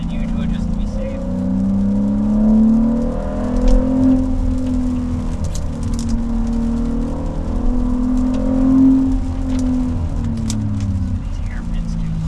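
Car engine revving and droning up and down along the wet hairpin turns of the Tail of the Dragon mountain road, loud and close for the whole stretch, with a steady harmonic whine rising and falling.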